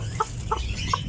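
A newly hatched chick makes three short, high peeps spaced evenly apart over a low background rumble, with no talking.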